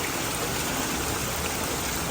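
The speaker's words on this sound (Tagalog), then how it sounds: "Kaya mga kaibigan, ang lakas ng ulan" A dense, steady downpour of heavy rain hisses and rushes close by, uniform throughout, with no talk.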